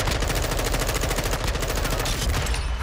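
The Orion automatic gun in a video game fires a continuous rapid burst, loud and close, with dense rhythmic shots running without pause for nearly three seconds.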